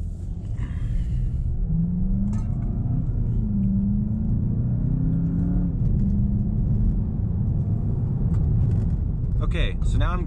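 A 2019 Volkswagen Jetta GLI's turbocharged engine pulls steadily under acceleration, its low drone rising and shifting in pitch through the gears, heard from inside the car with someone talking over it.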